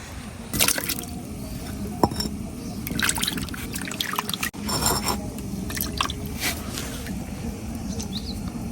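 Fresh radish greens from the garden simmer in a pot over a stove, giving a steady wet bubbling and trickling with soft squishes and scattered scrapes from nearby kitchen handling, no talking.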